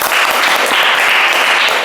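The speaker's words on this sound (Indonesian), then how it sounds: "beri tepuk tangan untuk Mbak Abel" A classroom group applauds a student after a geology presentation, a dense burst of close, steady hand clapping with no talking.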